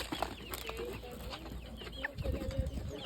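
Baby chickens peep in short, thin chirps scattered over a few seconds, fairly faint, with light background rustle and no talking.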